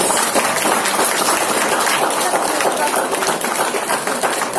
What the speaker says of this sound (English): So let's have a big round of applause for all of us.